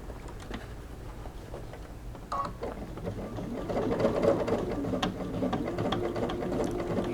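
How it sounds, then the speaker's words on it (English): Home sewing machine stitching a fabric bucket hat with an optional ponytail opening, a steady mechanical whirring and clatter that speeds up and grows louder partway through, close and alone with no talk. "And there is the beginning of my sewing, and I'm just going to sew over it"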